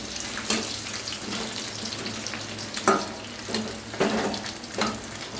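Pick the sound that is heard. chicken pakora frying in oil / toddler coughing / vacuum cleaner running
chicken pakora frying in oil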